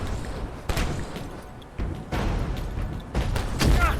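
Sniper fire in the video game Abiotic Factor: several sharp, loud broadband cracks spaced about a second apart, each with a short tail, over faint background noise.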